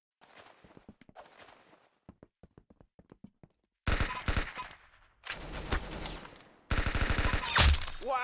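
Roblox Arsenal gunfire, opening with sparse single shots and short spaced taps, then three long, loud bursts of rapid automatic fire packed with dense repeated cracks.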